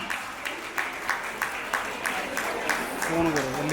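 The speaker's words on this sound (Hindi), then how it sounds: "आपकी तालियों की गड़गड़ाहट हमें हमेशा कुछ अच्छा करने के लिए प्रेरित करती है।" An audience at a women's community event with tambola claps in a rhythmic burst at moderate distance. A voice starts to speak just as the clapping fades.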